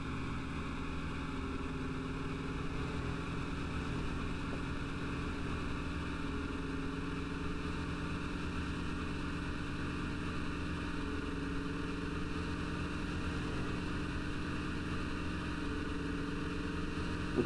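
A ZIL 157 truck engine in the driving game Motor Depot drones as a steady, even low rumble that holds unchanged for the whole stretch.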